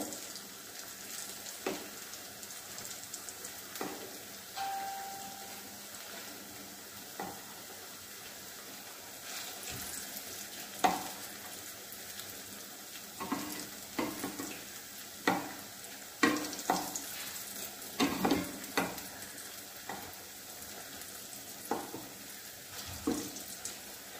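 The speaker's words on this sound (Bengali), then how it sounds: "দেখুন এরকম লাল লাল করে ভেজে নিতে হবে।" Pea lentil fritters fry in hot oil, giving a quiet, steady sizzle with scattered louder crackles and scraping stirs from a utensil in the pan.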